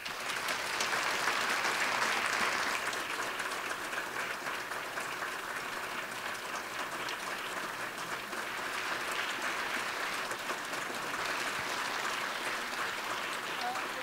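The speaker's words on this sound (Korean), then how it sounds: "우리 목사님 나오실 때 박수하시면서 사랑하고 축복합니다라고 환영하겠습니다" Church congregation applauding steadily to welcome the pastor at a Wednesday service, continuous even clapping from a large room, with a voice talking over it.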